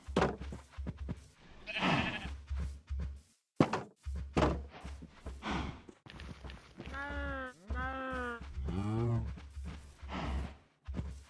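Sheep bleating in the video game Minecraft, a few wavering bleats in quick succession partway through, over background game music and thumps, with a voice talking before and around them.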